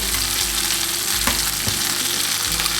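Tomato and an egg sizzle steadily in a greased pie maker, a close, even frying crackle with a few soft clicks and no talk.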